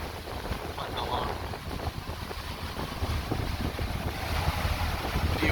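A small motorboat putting along on open water near a yacht club by Clearwater and Pass-a-Grille, heard as a low steady engine drone mixed with strong wind buffeting and lapping waves, continuous throughout.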